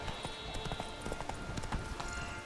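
Roach the horse trotting in The Witcher 3, hooves clip-clopping in a steady, quick rhythm of distinct hits over game music and ambience, at moderate volume with no voice.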